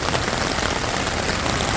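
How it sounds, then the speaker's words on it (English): Steady rain drums on a tent at Oshkosh, a dense, even patter of drops heard from inside, continuous and fairly loud with no talking. "Oshkosh in the rain from a tent."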